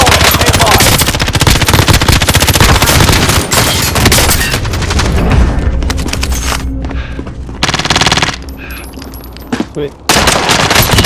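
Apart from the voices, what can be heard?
gunfire in a video game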